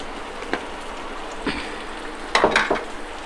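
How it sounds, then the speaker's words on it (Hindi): Onion, tomato and peanuts roasting in a pan for a village-style drumstick masala curry: a soft continuous sizzle with a few sharp utensil scrapes and clinks, close by, no talking. "जब तक प्याज और टमाटर का कलर ब्राउन होता है, वहाँ तक हमें इसको सेकना है"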